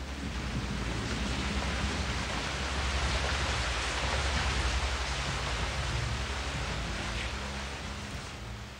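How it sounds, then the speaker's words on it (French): Torrential rain pours down steadily and loudly in a dense, unbroken roar, with no voices present. "Les nuages ont crevé et des torrents de pluie se sont abattus sur la surface encore brûlante de la"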